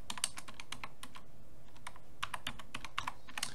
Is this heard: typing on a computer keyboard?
yes